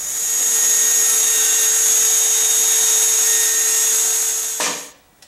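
DEWALT jobsite table saw cutting a 7/8-inch slot into a wooden cross cut sled, a loud steady high whine with a tonal hum that holds for several seconds before the blade winds down and stops.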